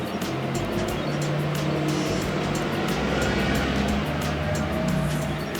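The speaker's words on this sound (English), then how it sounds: "There's always gonna be hella traffic here" Road traffic passes outside in a steady, dense stream, engines droning loud and continuous with vehicles rolling by one after another.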